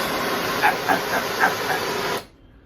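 A propane weed burner torch with a metal plate, fed from a 50-pound tank, hisses steadily and loudly for about two seconds with small pulsing flutters, then cuts off abruptly into near silence.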